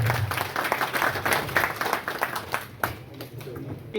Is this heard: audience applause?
yes